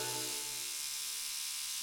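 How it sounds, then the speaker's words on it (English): An electric toothbrush buzzes with a steady, high mechanical whine, fairly faint and sustained, with no voices over it. "That's your father's toothbrush."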